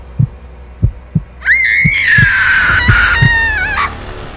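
Heartbeat effect for an animated Hindi horror story about a headless ghost: loud, deep thumps in a steady but slightly irregular beat, joined midway by a long, shrill, wavering scream-like cry.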